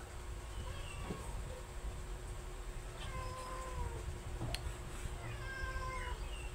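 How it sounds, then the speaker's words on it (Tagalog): Several pet cats meow in drawn-out, wavering calls beside an outdoor pork belly grill, fairly faint over a steady background hiss. "Ayan na yung mga pusa naming makulit."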